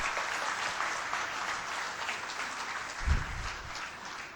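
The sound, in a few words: audience applause for organizers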